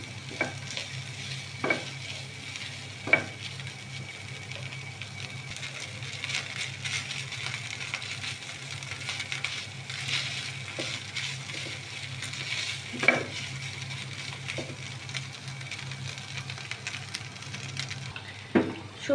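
Chicken stir-frying in a pan for fried rice: a continuous close sizzle with occasional sharp spatula scrapes and clacks against the pan, no talk.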